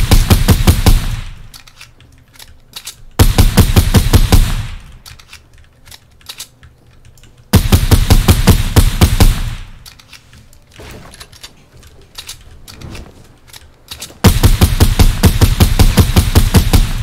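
Video game gunfire comes in loud bursts of rapid automatic shots, several long volleys separated by quieter gaps.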